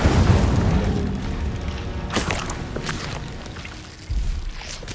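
Loud, booming Incendio fire spell blast in Hogwarts Legacy: a dense roaring burst with crackling flares that swells near the start and hits again near the end, and no talk.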